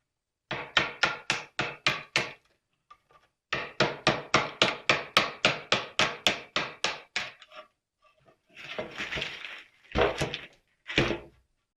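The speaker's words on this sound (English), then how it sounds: "it was actually faster for me just to use my hammer and spatula to remove it" Rapid runs of sharp hammer blows, about a dozen in quick succession, then a pause and another fast series, followed by scraping and a few louder knocks, as a hammer and spatula chip veneer off an antique treadle sewing desk.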